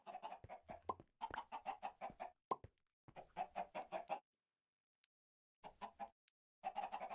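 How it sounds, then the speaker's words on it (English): Minecraft chickens give rapid, bursty clucking, repeated in short clustered sequences with brief pauses and a few plopping pops, clear and close. "Couple more chickens."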